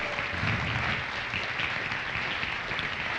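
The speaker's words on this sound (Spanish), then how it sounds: "Dame un aplauso fuerte al Señor." A congregation applauds loudly at a Catholic church service, a dense, steady wash of many hands clapping that stays even from start to finish.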